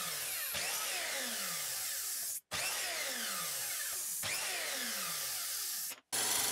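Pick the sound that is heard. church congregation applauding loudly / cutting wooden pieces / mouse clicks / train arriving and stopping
cutting wooden pieces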